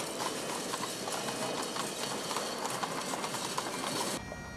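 Horse hooves clop along in a funeral procession moving from the Capitol through streets filled with mourners, with a riderless horse named Blackjack. The hooves keep a steady rhythm under a thick, hissing wash of noise.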